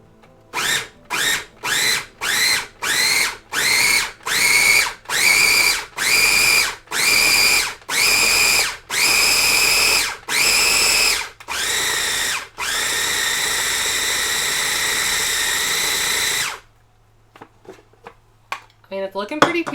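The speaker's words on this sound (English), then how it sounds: "So then we're just going to try and puree this and hope I did it right" A kitchen blender purees cooked ingredients for pupusas, running in a long series of short, loud pulses that lengthen into one sustained whir before cutting off, leaving a faint rustle.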